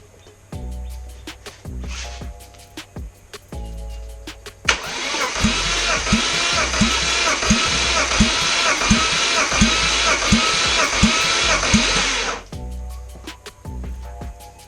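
A BMW M54 engine cranks steadily on the starter for several seconds during a compression check, a loud, even rhythmic churning that stops abruptly, framed by quieter shop noise before and after.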